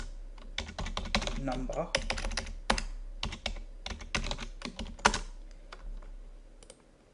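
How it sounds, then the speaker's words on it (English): Computer keyboard typing a word into a spreadsheet cell, with quick irregular key clatter in close bursts and brief pauses, while a voice talks at moments over it. "in this first cell here, we're going to type in invoice"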